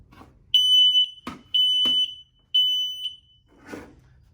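Three loud, shrill electronic beeps from smoke alarms, each held about half a second, evenly spaced, with short clicks and thumps between them.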